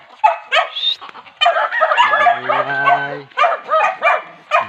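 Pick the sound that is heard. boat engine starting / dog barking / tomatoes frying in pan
dog barking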